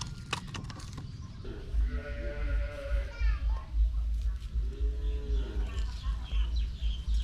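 Cattle moo in drawn-out, wavering calls, two clear ones a few seconds apart, among outdoor background noise with people talking nearby.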